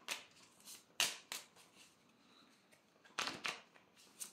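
Tarot or coaching cards being handled and dealt into piles, giving several crisp papery snaps and shuffling flicks in irregular bursts, close and fairly quiet, with no talking.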